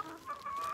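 Hens clucking in a backyard pen in Georgia, a soft, steady run of low clucks and chatter at moderate distance with no talking.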